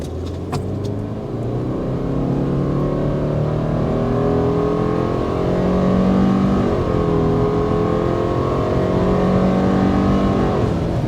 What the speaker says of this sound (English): start with the hard acceleration to show you what this powertrain is all about